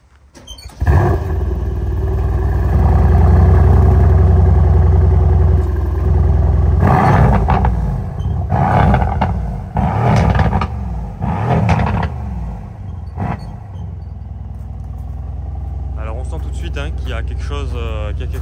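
Mercedes C63S with a V8 biturbo engine fires up with a loud, deep roar that settles into a rumbling idle, followed by several sharp revving bursts and a steady idle, heard close and alone.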